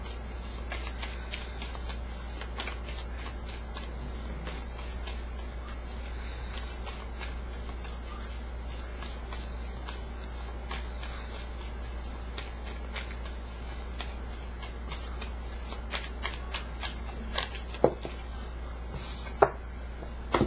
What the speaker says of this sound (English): please provide Capricorn with an Archangel Oracle card to focus on for the 4th week of February 2020